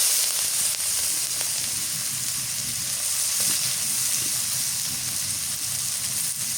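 Onions dropped into hot oil for a Bengali fish curry, giving a steady, loud broadband sizzle and hiss of frying that holds evenly throughout, close up with no talking.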